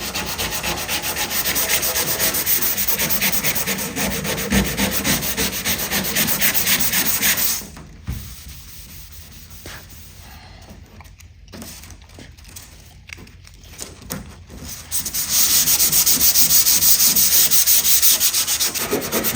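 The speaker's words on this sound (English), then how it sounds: "I just sand it some more." Steady scraping sandpaper rubbing over Bondo body filler on a 1964 Ford Galaxie, loud and continuous at close range, pausing for several seconds in the middle before resuming at full strength.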